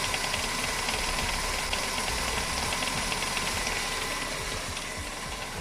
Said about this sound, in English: I can hear right there power steering pulley making some noise